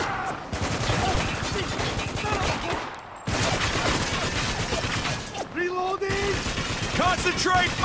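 Heavy machine gun fire in Spec Ops: The Line, a relentless dense stream of rapid .50 caliber shots and gunfire close and loud, with brief shifts in the barrage and voices under the shooting.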